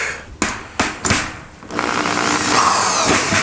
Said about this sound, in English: It's very easy to over tighten when you're using a drill like this